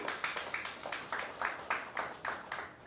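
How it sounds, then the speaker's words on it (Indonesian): Church congregation clapping during a Sunday service, a steady mass of handclaps with rhythmic surges rising and falling through the short stretch, fairly quiet and moderately distant. "Kasih tepuk tangan dulu"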